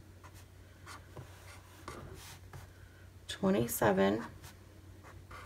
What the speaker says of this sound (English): I'm gonna write in big letters